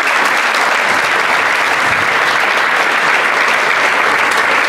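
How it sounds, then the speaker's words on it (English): Loud, dense applause from an audience at a Brentford football reunion evening, a continuous close roar of clapping for a former player, steady and unbroken. "Your applause, please, for Tommy Spurr."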